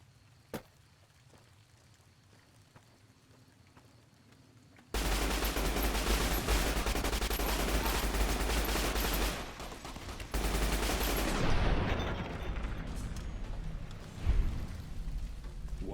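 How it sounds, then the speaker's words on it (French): Sustained bursts of automatic gunfire from the video game Fallout New Vegas erupt after a quiet opening, loud and dense for several seconds, then continue less steadily toward the end. "On entend des coups de feu."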